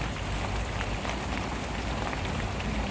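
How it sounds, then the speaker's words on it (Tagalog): Light rain falls steadily as an even, close hiss of drops on a surface, constant and unbroken with no voices. "Medyo mahina na yung ulan, no?"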